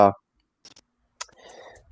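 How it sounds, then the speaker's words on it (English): Light clicks and taps of fingers typing notes on a computer keyboard, a few sparse keystrokes followed by a faint busier patter, quiet and close, after a brief burst of speech at the start. "I'm typing in notes into our chat just so I don't forget what we're talking about."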